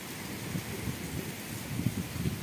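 Heavy afternoon rain falls in a village yard, a dense, continuous wash of noise with low rumbling swells and gusts of cold wind underneath.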